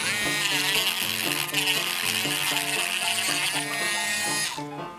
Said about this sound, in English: Now I'm just going to use my Dremel to clean it up.